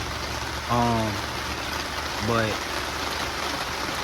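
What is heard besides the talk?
heavy rain falling outdoors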